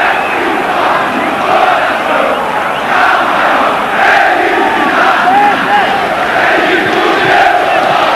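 A packed football stadium crowd roars and chants in support of São Paulo during a 2000 Copa do Brasil match against Comercial, a dense, continuous wall of cheering with no clear breaks.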